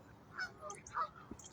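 Swans call on a lake with a few short, nasal honks, moderately close. The calls are spaced across a quiet outdoor background.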